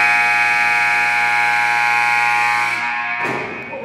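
A loud, steady electronic basketball game clock buzzer drones for about three seconds, then cuts off into crowd noise.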